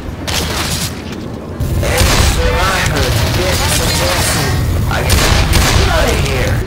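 Left 4 Dead 2 gunfire booms in heavy, rapid volleys that start after a short quieter lead-in, with character voices speaking over the shooting.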